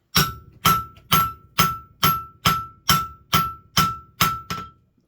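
Ten steady, ringing hammer blows on round steel stock on an anvil, forging it into a hex, evenly spaced about half a second apart, loud and close, each with a bright metallic ring.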